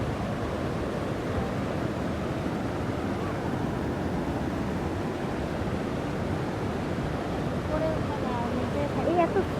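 Fast-flowing water at a lake park rushes in a constant low, soft wash, with faint voices surfacing briefly near the end.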